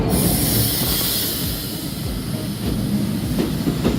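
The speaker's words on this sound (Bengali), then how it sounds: "ফাইনালি আমাদের ট্রেন চলে এসেছে।" A passenger train pulls into a station with a loud, close rumble, hissing brakes and rhythmic wheel clatter that rises again toward the end.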